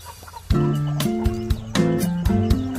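Native country hens on a farm cluck in a steady run of close, repeated calls, with sharp bursts of clucking at short, uneven intervals.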